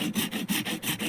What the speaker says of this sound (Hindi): आप चाहो तो इस पर आरी का यूज़ करके इस पोर्शन को निकाल सकते हो